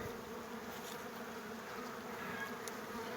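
A low, steady hum of many domestic honeybees buzzing together while drying out wax combs, soft and continuous with no voices.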